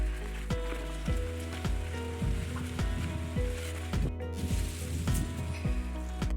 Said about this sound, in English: it's actually raining now, so I'm gonna head off